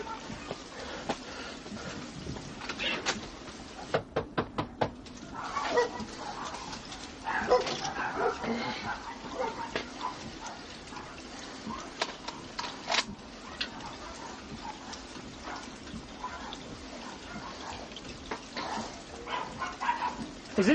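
A dog that has just been shot during a police encounter barks, yips and whimpers in scattered bursts over a steady background hiss, with voices murmuring faintly nearby.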